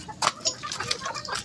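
Chickens at feeding time peck and cluck softly up close, with short irregular bursts of pecking and clucking.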